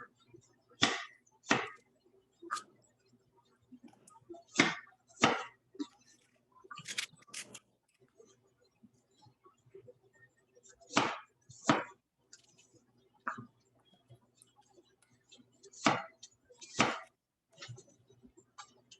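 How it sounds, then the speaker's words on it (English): A knife chops food into wedges on a cutting board in a home kitchen, with sharp, distinct knocks landing in short irregular bursts and quiet pauses between them. "just cut it in a couple of pieces"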